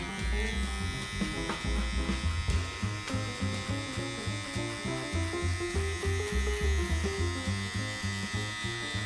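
Electric hair clippers fitted with a number 1 guard buzz steadily through a high skin fade haircut, a close continuous hum mixed with rhythmic background music.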